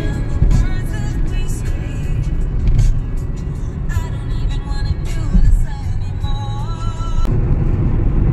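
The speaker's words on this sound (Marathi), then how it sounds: "मी आता पुन्हा गाडी घेतलेली आहे, कारण आता हायवे आहे" A car cruising steadily along a highway, its engine and tyre roar a constant loud rumble from inside the cabin, with brief faint sounds over it.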